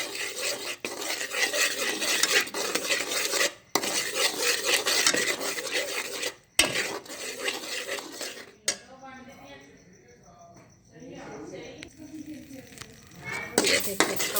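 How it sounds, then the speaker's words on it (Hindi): A metal spoon scrapes and stirs besan with egg and sugar in a pan to make halwa. The rasping, clinking strokes come in irregular bursts, then turn quieter with softer scraping and a faint sizzle before the vigorous stirring resumes. "अब हम इसे इसी तरह भूनना है"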